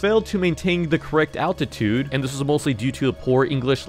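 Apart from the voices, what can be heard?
No distinct noise like a dog, phone or traffic.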